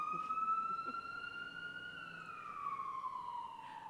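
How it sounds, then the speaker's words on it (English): Emergency sirens wail past outside a regular public meeting room, a steady tone sliding gradually downward in pitch as the vehicles move by over several seconds, moderately loud with no speech over it. "We'll wait for the sirens to go by."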